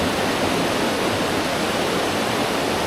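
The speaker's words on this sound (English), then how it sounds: "Standing in the middle of the river." River Suze in Switzerland rushing around a wading fly fisherman, a dense, steady roar of flowing water close by, unbroken and without any voices.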